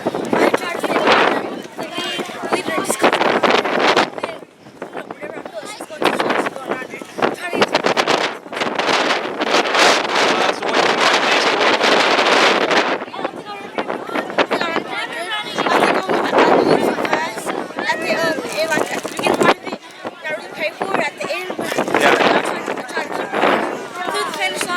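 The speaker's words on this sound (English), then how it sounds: "It got really windy here." Gusty wind buffets the microphone at an outdoor cross-country race finish, roaring in loud uneven bursts with brief lulls, while a girl and an interviewer talk through it.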